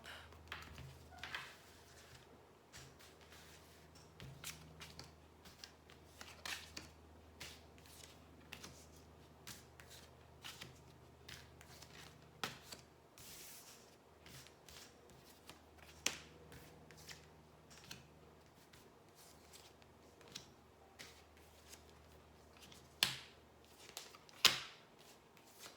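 A deck of tarot cards being shuffled and handled at close range, soft papery riffles and scattered sharp taps and flicks, quiet and alone.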